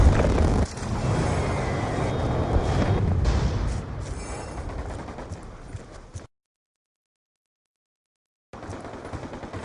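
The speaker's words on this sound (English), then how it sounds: "Friendly Hellstorm missile inbound." Hellstorm missile strike in a Call of Duty-style game, a loud opening blast followed by rumbling, crackling explosions and rapid fire, then an abrupt silence before the noise resumes.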